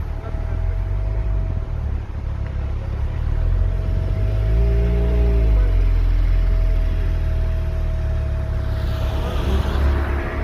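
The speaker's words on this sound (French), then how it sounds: "Petite 911 turbo." A Porsche 911 Turbo engine in Dubai, a steady low rumble that swells a little midway, as if idling or creeping past nearby, with no clear talk over it.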